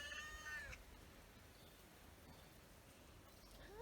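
A neighbour's cat in a garden gives a short meow near the start, with a faint cry rising again at the very end over quiet outdoor background hiss.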